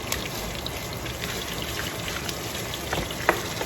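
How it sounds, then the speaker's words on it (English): Steady, dense sizzling of tomatoes frying in a pan, with crackles and pops over a continuous hiss, fairly close and uninterrupted by talk. "You start by frying your tomatoes."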